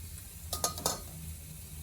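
A pot lid is set in place with a few quick metallic clinks and rattles, close and fairly faint, over low background noise while Ilokano-style pork and eggplant cook.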